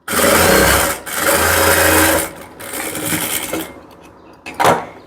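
A sewing machine stitches a blouse in loud, close bursts: two long runs, then shorter starts and stops with brief pauses in between.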